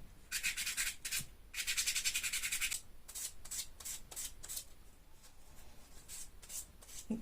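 A resin crystal cluster being wet sanded by hand with 220-grit sandpaper, a soft close rasping rub in quick repeated strokes, faint and alone.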